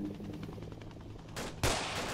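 Gunfire in the Arma 2 DayZ mod, a rapid run of shots under steady background noise, closing with a louder, nearer burst near the end.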